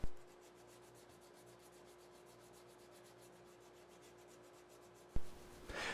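Soft, steady rhythmic rubbing of 3M sandpaper on a wooden guitar neck, faint and repetitive, followed by a louder thump and scrape at the end.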